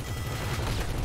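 Gunfire in a chaotic multiplayer shooter video game with helicopters and explosions, heard as a dense, continuous low rattling burst of rapid shots lasting about a second, loud and steady with a sharp hit at the end.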